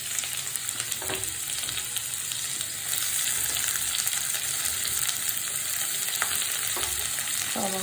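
Sliced onion sizzles and fries in a pan of oil with dried red chillies, curry leaves and crushed ginger-garlic, a steady close crackling hiss with occasional stirring scrapes.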